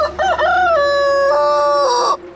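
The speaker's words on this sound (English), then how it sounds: "Roosters crow in the middle of the night too, you know." A single loud rooster crow close by, one drawn-out cock-a-doodle-doo with clear harmonic tones lasting about two seconds.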